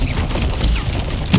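Expelliarmus disarming spell fired during a battle in the Hogwarts Legacy video game, a few sharp cracks and thuds punching through a dense, continuous clash of combat noise.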